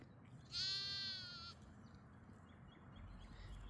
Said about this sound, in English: These ewes just don't bother if I'm nice and close.